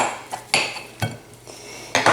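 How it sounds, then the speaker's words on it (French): A knife slicing a hot boiled potato in half on a plate, giving a few sharp clinks of metal on crockery at an uneven pace, close and clear. "une fois la pomme de terre cuite, je vais la couper en deux."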